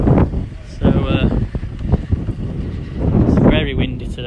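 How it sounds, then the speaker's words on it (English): Strong wind buffets the microphone outdoors near a bridge in Leeds, gusty rumbling bursts over which people talk throughout. "it's very windy today."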